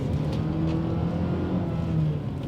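A 2020 Nissan Rogue Sport engine droning steadily at high revs, a constant mechanical hum with a slight rise near the end.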